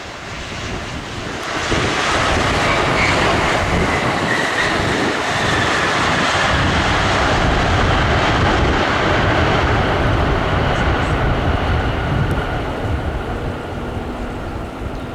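A Vietnam Airlines Boeing 787 lands on runway 07, heard as a loud, steady broadband roar that swells after the first second or two and holds, with some wind buffeting on the microphone.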